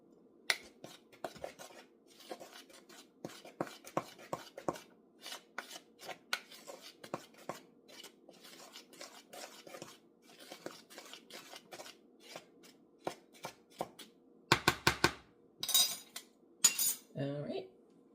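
Pumpkin cookie ingredients are mixed in a bowl, giving a long run of light clicks and scrapes of a utensil against the bowl, quiet and close, with a cluster of louder knocks near the end.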